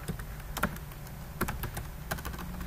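Fingers tap a computer keyboard while writing C code, with a few distinct clustered keystrokes and short pauses between them, close and clear, without talk.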